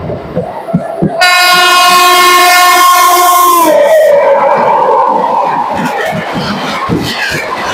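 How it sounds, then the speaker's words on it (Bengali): An express train rushes past on the railway, its loud, sustained horn blaring for a few seconds before the heavy rumble and clatter of the passing cars takes over, close and continuous. "এক্সপ্রেস পাস হচ্ছে আমাদের সামনে।"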